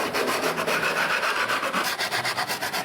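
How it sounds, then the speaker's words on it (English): Steady rhythmic rasping as a sanding stick is rubbed back and forth over the wooden edge of a handmade ukulele body, close and continuous with regular strokes throughout. "sand it back with my sanding stick"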